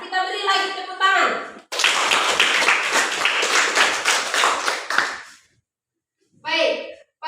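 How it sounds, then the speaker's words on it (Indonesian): A classroom of students bursts into applause, a dense burst of clapping lasting a few seconds after a teacher speaks, then a short pause before more talking. "Kita beri lagi tepuk tangan."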